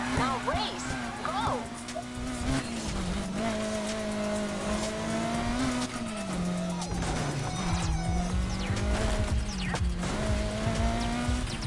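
Race cars in a PS4 racing video game rev and accelerate with a steady, droning engine note that rises and dips, joined by scattered tire squeals and knocks, while game voices talk over it.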